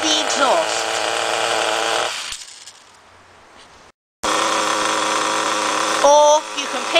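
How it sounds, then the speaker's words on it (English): A small nitro engine runs with a loud, steady high-pitched buzz, then chokes down to a muffled sputter as its exhaust is blocked, falls silent, and after a brief gap a loud engine-like whine returns. "One way you can actually stop your engine is to block the exhaust."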